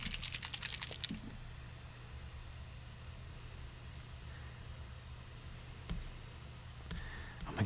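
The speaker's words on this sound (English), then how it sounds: "Oh my goodness, typing." Keyboard typing, a short burst of quick clicky keystrokes at the start and a few scattered taps later, faint over a steady low hum in a quiet room.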